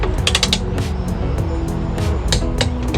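A ratchet wrench loosens bolts on the front suspension of a 2019 Mustang GT during a lowering spring install, giving rapid clicking ratchet strokes with mechanical creaks, loud and close.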